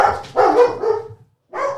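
Dogs bark loudly and close by at home, giving two or three quick rough barks in a row, then a short pause and one more bark, with no talking.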